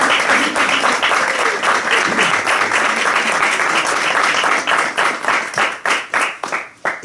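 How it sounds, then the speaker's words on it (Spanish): Audience applause at a poetry event in Granada, dense lively clapping that holds steady, then thins into separate claps and fades toward the end. "yo voy a pedir un aplauso primero"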